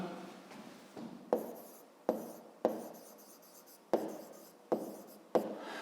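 A pen writes in an exercise book during a fifth-grade maths lesson: scratchy strokes in short bursts, each opening with a sharper tap of the nib, close and fairly quiet, with no talk.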